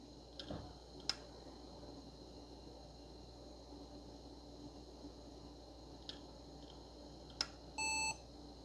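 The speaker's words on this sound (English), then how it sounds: "Well, it beeped, but there is nothing on the screen." A Toshiba Libretto laptop starting up: a few sharp, isolated clicks and ticks from the machine, followed by a single short electronic startup beep near the end, all faint against a quiet room.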